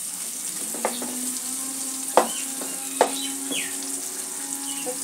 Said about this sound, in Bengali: পেঁয়াজটা একটু লালচে করে ভাজতে হবে,